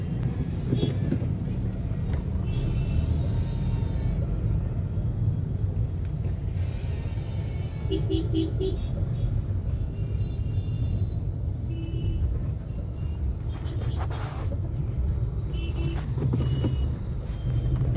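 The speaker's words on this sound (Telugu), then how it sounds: "ట్రాఫిక్ అయితే చాలా హెవీగా ఉంది" Dense road traffic rumbles continuously near Tank Bund main circle by Hussain Sagar, Hyderabad, during the Ganesh immersion, engines droning with occasional horn-like tones and passing vehicles.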